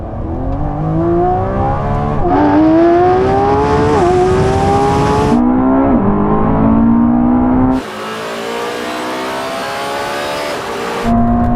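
A Lamborghini Revuelto, Ferrari SF90 and Porsche 918 accelerate hard side by side in a half-mile drag race, launched in second gear, engines roaring loudly and climbing in pitch through several gear shifts, with a sharp change in tone near the end.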